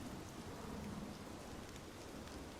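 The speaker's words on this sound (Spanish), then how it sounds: "La lluvia caía en cortinas densas, golpeando las hojas y el suelo del bosque como un tamborileo incesante." Steady dense rain falling in a forest, a continuous hiss of drops on leaves and ground with a low rumble of thunder underneath, quiet and even throughout.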